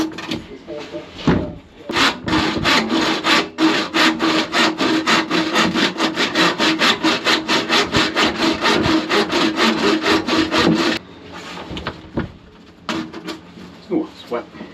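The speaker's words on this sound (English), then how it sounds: "I couldn't find a hacksaw, so I had to use a wood saw" A wood saw cuts through a plastic rainwater pipe in loud, close back-and-forth strokes, a steady rasping rhythm of roughly two strokes per second that stops abruptly, followed by scattered handling knocks.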